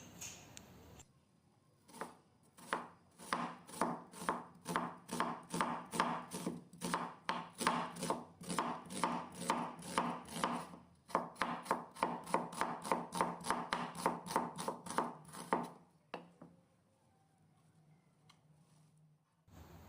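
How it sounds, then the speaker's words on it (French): A knife slices half an onion into thin strips on a board, a steady run of rapid, evenly spaced chops from about two to sixteen seconds, close and crisp, with a brief pause midway and no talking. "je prends un oignon, un demi-oignon et je le coupe en fines lamelles"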